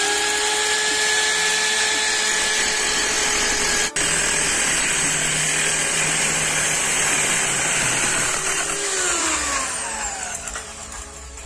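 A power saw cuts recycled pallet wood boards along a marked line for a dog house, a loud continuous whining motor with a brief dip partway, then the pitch slides down as the blade winds off near the end.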